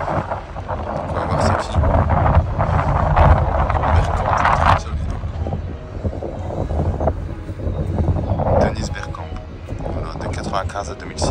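Gusty wind buffets the microphone with low rumbling roar, surging and easing, while a person talks over it in French at Emirates Stadium.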